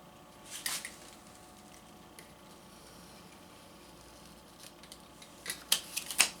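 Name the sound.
scissors cutting plastic face shield sheet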